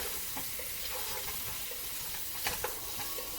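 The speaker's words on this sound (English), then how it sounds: "So I'm just stirring these around in that stuff that was on the bottom to get them kind of seasoned." Whole potatoes hiss and sizzle in a hot seasoned pan while a utensil scrapes and stirs them, a steady close frying crackle punctuated by a couple of louder clacks.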